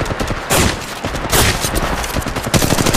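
Automatic gunfire rattles through a match of the mobile game Apex Legends Mobile, loud dense bursts running continuously with sharper volleys near the start, middle and end.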